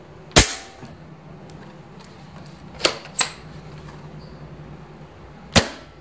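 Four sharp shots from a dCobra M96 air gun crack out at uneven intervals at a tin can, each a short snappy pop with a quick metallic ring, against quiet background.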